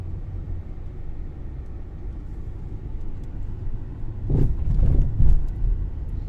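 A car driving along a rough road surface between Tombs of the Kings and Coral Bay in Paphos, Cyprus. A low continuous rumble from the cabin builds into heavier thumps and jolts near the end.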